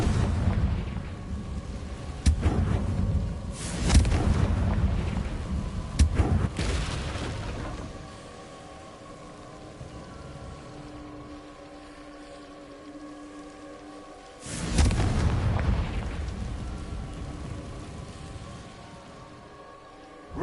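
Confringo fire spells in Hogwarts Legacy set off several deep, booming explosions that rumble close. Heavy blasts cluster early, a quieter stretch of low ambient hum follows, and another big boom comes near the end.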